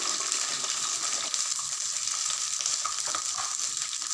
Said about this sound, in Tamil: ரெண்டையும் சேர்த்து நல்லா வதக்கிடுவோம் கொஞ்சம் நேரம்.